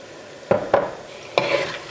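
Banana halwa is stirred in a pan with a spoon, three distinct scraping strokes against the pan over a soft background sizzle, close and clear with no talking.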